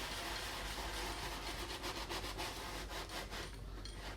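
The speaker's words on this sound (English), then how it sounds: "you have the cleaner on the brush, and what you do is just scrub it with circular motion." A brush scrubbing car leather seats with cleaner in circular motions gives a continuous close rasping rub of repeated strokes, loud and even for several seconds, with no voices.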